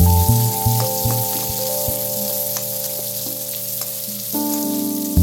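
Onions fry with curry leaves, green chillies and garlic in a pan, giving a steady sizzling crackle with a few scattered pops. Strong steady tones from a nearby appliance hum underneath throughout.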